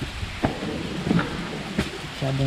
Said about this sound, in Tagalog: Yung narinig niyo yung lakas ng ulan.